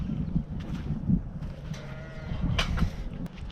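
Sheep bleat on a farm, a few wavering calls rising over a low rumbling background, moderately close with gaps of ambient noise between them.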